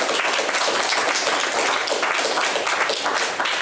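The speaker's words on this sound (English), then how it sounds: "just another round of applause for Martin for his excellent talk." Lecture audience giving a round of applause after a talk on James Connolly, steady dense clapping that continues for the whole stretch at moderate distance.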